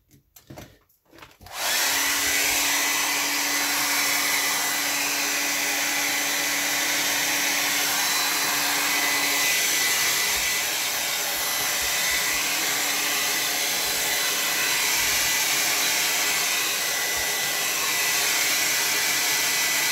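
Hair dryer blowing on a watercolor landscape painted on tinted Bockingford paper, a loud, steady whooshing roar that switches on after a few handling clicks and runs without pause.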